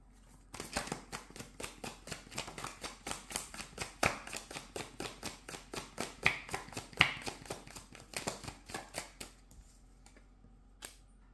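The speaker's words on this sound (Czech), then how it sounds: "Já si ještě vyložím tady na toho rytíře holí." Tarot cards being laid out and handled on a table, a close series of crisp snapping slaps and flicks in an irregular rhythm, with a few brighter clicks, over a quiet background.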